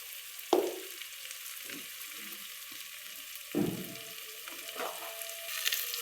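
Chili powder fries in a pan with soft sizzling and a few louder stirring scrapes and clinks, close and otherwise quiet with no voices.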